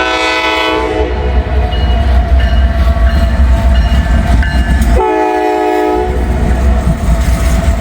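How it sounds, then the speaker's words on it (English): A Norfolk Southern freight train passes close by on a rainy day, its rails rumbling and clacking steadily while the horn blows two long, loud blasts over the rolling noise. "First train of the day, Norfolk Southern."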